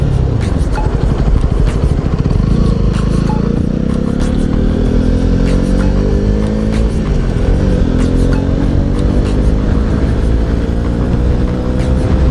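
A Honda CB125R motorcycle, one year old with about 2,483 km, rides on the road. Its engine drones loud and steady with rising revs and wind rush throughout, and no talk.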